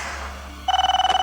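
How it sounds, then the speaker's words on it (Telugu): A telephone starts ringing halfway through with a loud, close, rapidly trilling electronic bell tone that lasts under a second, following low background noise. "థ్యాంక్ యూ నా ఫోన్ రిసీవ్ చేసుకున్నందుకు."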